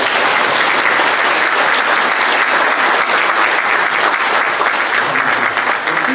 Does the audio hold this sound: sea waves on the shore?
no